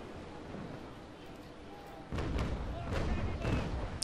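Naval cannons fire a broadside in Naval Action, a sudden rolling volley of deep booms and thuds that starts midway and keeps rumbling loudly over background noise, with a voice faintly beneath.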